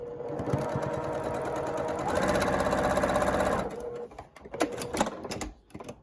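Sewing machine stitching a quarter-inch quilt seam on a baby pinwheel quilt, a rapid mechanical whirring run that speeds up midway, then stops into a few scattered clicks and handling sounds.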